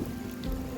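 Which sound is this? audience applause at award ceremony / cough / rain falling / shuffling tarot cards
rain falling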